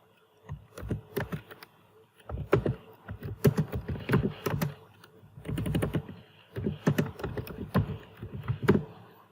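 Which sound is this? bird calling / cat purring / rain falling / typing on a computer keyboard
typing on a computer keyboard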